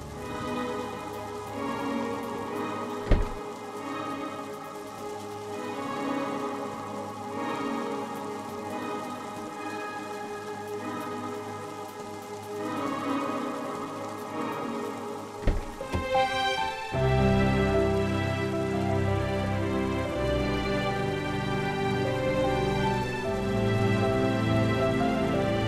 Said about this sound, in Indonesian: ini di luar hujan loh